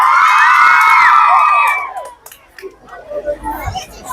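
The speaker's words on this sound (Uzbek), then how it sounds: "Yotoqxona gruppa bitta baqirib beramiz." A group of children at a school Children's Day event shouts and cheers together in one loud, shrill burst lasting about two seconds, then fades into scattered chatter and noise.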